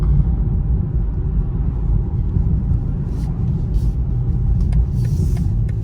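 A 2021 BMW M340i xDrive engine held in a brake boost launch, a steady loud low rumble and drone heard from inside the car, with faint voices.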